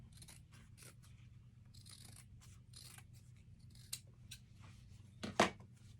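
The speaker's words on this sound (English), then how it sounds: "Now that it's free, I'll cut the angle part." Scissors snip repeatedly through denim to free a jeans pocket, a rhythmic series of close, crisp crunching cuts, with a sharper louder snip near the end.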